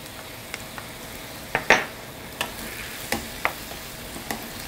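Pad Thai stir-fried in a pan with chopped chillies: a quiet continuous sizzle broken by several sharp clinks and scrapes of a utensil against the pan, no voices.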